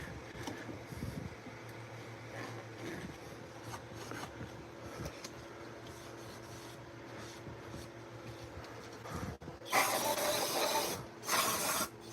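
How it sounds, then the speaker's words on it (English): Compressed air blasts out a Jeep 3.7L cylinder head during cleaning, arriving as two loud hissing bursts near the end after a stretch of quieter workshop hum and light clatter. "Probably just blow it out with compressed air at this point."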